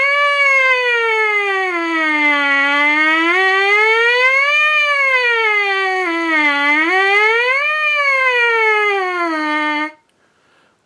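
Buzzing lips on a trumpet imitate a siren, a loud close tone that slides smoothly up and down in slow wailing sweeps for about ten seconds before cutting off abruptly.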